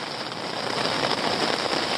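Heavy rain pouring down around an abandoned building at a campsite, a dense, steady hiss of drops with no pause, close and loud.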